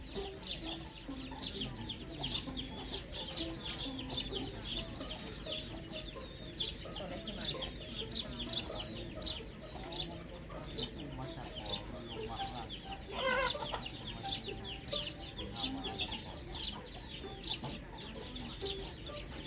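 Several chickens cluck and squawk close by, their calls overlapping continuously with no pauses.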